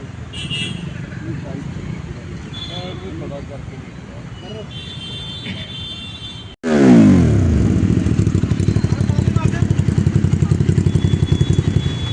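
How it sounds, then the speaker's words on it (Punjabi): Voices and clatter at a police traffic stop at first, then a Hayabusa motorcycle with a double silencer exhaust starts up loud and close, idling with a deep, rapid, throbbing burble. "ਹਾਇਆ ਬੂਸਾ ਜਿਹੜਾ ਕਿ ਇੱਕ ਮੋਟਰਸਾਈਕਲ ਦੇ ਡਬਲ ਸਿਲੈਂਸਰ ਲੱਗਾ ਹੈ ਤੇ ਉਹਦੀ ਆਵਾਜ਼"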